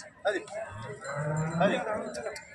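A water buffalo at the Sangola buffalo market lets out a low, drawn-out lowing call near the listener, with faint voices and farm background around it.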